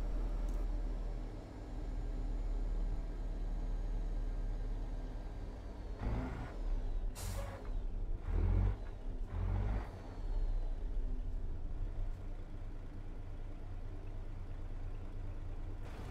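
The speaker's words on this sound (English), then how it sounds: "I love the sound, and with a Zeemods sound mod, and yes, it sounds a bit fanboyish, but you can hear the intake, the exhaust" Simulated heavy truck engine in American Truck Simulator, an ISX EGR engine with a Zeemods sound mod, droning steadily with intake and exhaust character, a few louder air-brake hisses and revving bursts mid-clip, no talk.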